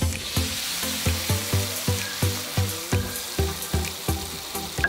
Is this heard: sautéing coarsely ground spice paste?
yes